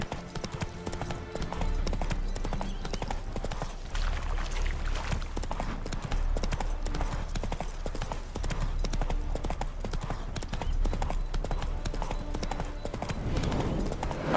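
Hooves clip-clop steadily as Roach, the horse in The Witcher 3, runs along, the rhythmic beats continuing over a low rumbling game backdrop.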